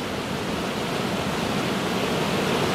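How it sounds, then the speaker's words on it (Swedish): A large waterfall on a wild, unregulated river in the Swedish wilderness roars as a dense, constant wash of rushing water, broad and steady with no pauses or voices. "Rytande forsar, vilda forsar."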